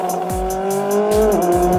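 A Koenigsegg Sadair's Spear sliding through a corner on a race track, its engine holding a steady loud drone while the tyres squeal, with several short bursts of squeal and thumps, close to the listener.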